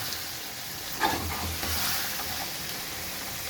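Chicken stirs and fries in a pan, a continuous soft sizzle with a couple of brief scraping stirs near the middle, fairly quiet and with no talk over it.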